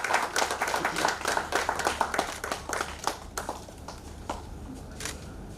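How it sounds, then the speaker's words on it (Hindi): An audience claps at a Vishwakarma community literary gathering honouring a guest. Dense, steady, close applause fills the room at first, then thins out into scattered, fading claps. "आप सब तालियां बजा करके उनसे आशीर्वाद प्राप्त करें।"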